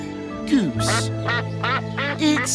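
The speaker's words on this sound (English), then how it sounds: "It's a goose." A goose honks in a few loud, close, nasal calls, with a steady low tone running beneath them.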